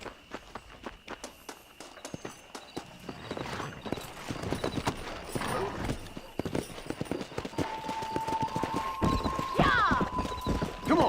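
Horse galloping in the Western video game Red Dead Redemption, rapid hoofbeats building and running on steadily with snorts and a whinny, mixed with game sounds and brief voices.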